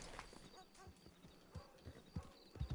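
Horse hooves clip-clop in the Red Dead Online video game, a steady trot of light thuds with a brief whinny-like tone and low game ambience, faint and mid-distance.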